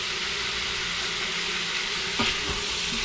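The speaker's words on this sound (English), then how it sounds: "it's going to sound like it's sauteing for a little bit" Meat for red beans and rice sizzles steadily in a slow cooker as the sauté setting winds down, a close, continuous frying hiss with a faint clunk partway through.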